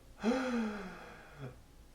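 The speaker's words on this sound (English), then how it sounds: "Step 3, gasp, but sustain it." A single drawn-out inhaled gasp, sung as an ingressive vocal pitch, voiced and held for over a second before trailing off, heard alone and close up.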